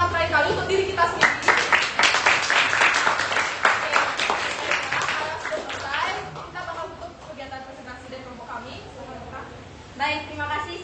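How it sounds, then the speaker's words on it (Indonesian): Classroom group applause after a student presentation, a burst of clapping filling the first half and fading out under chatter and a speaking voice, with a brief swell again near the end. "bisa kasih tepuk tangan terakhir kali untuk diri kita sendiri"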